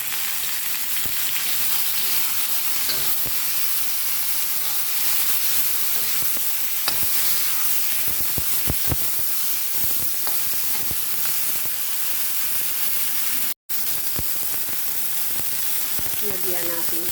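Mushrooms frying in hot oil with garlic, a dense continuous sizzle with scattered stirring clicks and scrapes, loud and close throughout.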